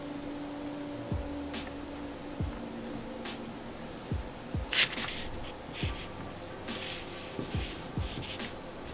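A graffiti marker writing on a black surface gives faint, scratchy strokes with soft taps as the tip lands and lifts, spread irregularly over several seconds against a quiet hum.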